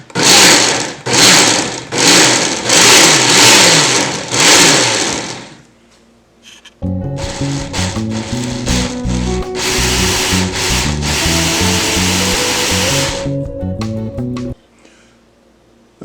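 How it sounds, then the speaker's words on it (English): A blender runs on high while puréeing hot sweet corn, first in rhythmic pulsing bursts, then after a short pause as a loud, steady whirring grind that cuts off near the end. "I ran it through the blender there on high for about a minute or so"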